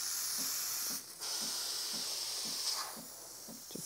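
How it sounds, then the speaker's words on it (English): Steady, loud hiss of steam venting continuously from a Breville espresso machine steam wand, with faint rhythmic knocking underneath. "Just spraying steam on a PC right now."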